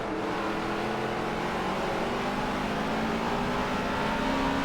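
A continuous loud drone of race car engines in a racing video game, a dense buzzing roar that stays level without breaks.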